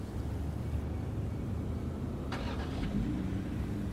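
A Rover 825 automatic car on a road test, a steady low engine hum and road rumble heard from inside the cabin, constant and moderately loud, with a brief higher rattle midway.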